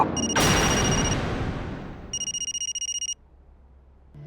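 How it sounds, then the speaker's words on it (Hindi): A phone ringtone sounds in short bursts, first under a loud noisy crash, then as a rapid trilling ring for about a second before stopping. "माँ, अनु का फोन है।"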